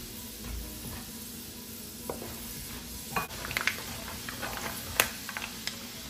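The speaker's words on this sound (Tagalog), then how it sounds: "Prito natin tong achwete seeds para makuha natin yung flavor niya at saka yung kulay." Annatto seeds fry in hot oil in a pan with a soft, steady sizzle and scattered small crackles and pops, fairly quiet throughout.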